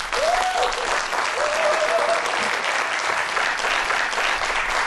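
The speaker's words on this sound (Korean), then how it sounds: "여러분들 큰 박수로 환영해 주시면 고맙겠습니다." Studio audience applause greets a guest on a television show, a dense, steady clapping that fills the whole stretch at even loudness, with faint whistle-like tones at the start.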